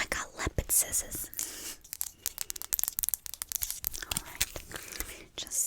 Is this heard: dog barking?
no